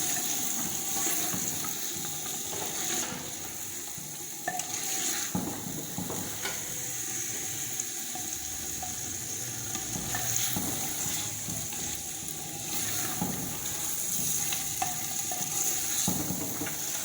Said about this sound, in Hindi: तो चलिए ये तमाम गोश्त भी इसमें डालेंगे और इसके बाद इसको चलाएंगे हम।